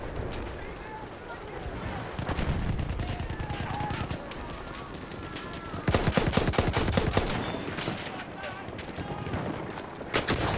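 Battlefield 1 gameplay carries bursts of rapid gunfire and automatic weapon volleys, with footsteps running between them, while players talk over the action.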